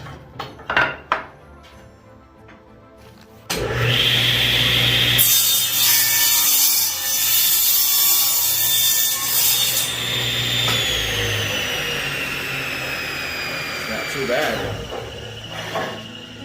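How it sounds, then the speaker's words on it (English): A Ridgid R4512 table saw cuts a piece of scrap wood, opening with a few knocks and then a loud, close motor hum and high screeching blade-through-wood cut lasting several seconds before tapering off, with people talking around it. "Cutting the wood."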